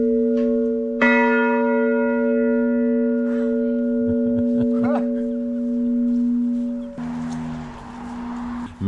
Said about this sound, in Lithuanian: Mergelės Marijos varpas.